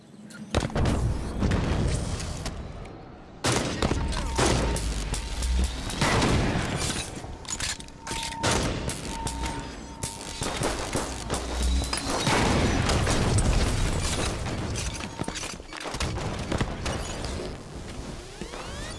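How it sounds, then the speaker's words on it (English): Booming grenade blasts and rattling gunfire from Halo 5: Guardians fill a long battle stretch, with heavy thuds, crashes and bursts of shots that break off briefly before resuming loud and close. "Grenade out."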